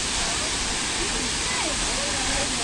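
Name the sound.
Ghorle waterfall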